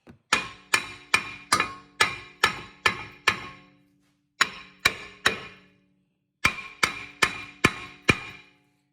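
Hammer blows strike a stuck front brake rotor on a 2018 Ford Focus, landing as sharp metallic whacks in three quick bursts of about four to eight hits each, loud and close with brief pauses between bursts.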